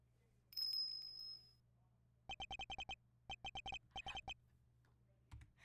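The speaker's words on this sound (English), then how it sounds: "That sound. Is that a bell?" Bell chimes in the video game Ace Attorney Investigations 2, ringing in three quick bursts of rapid, evenly spaced bright strikes, loud and clear over a low steady hum, after a brief high tone.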